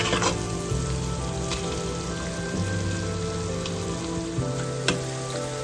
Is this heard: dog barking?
no